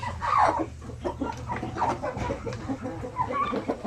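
Zampi native chickens clucking in a breeding pen, a busy flock with overlapping close clucks and brief louder calls over a steady low background hum, no talking.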